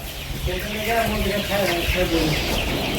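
Chickens on a poultry farm give a run of rhythmic clucks close by, with a person talking over and among the calls.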